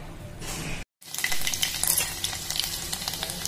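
Loud crackling and sizzling of mustard seeds in hot oil, dense rapid pops continuing after a brief break.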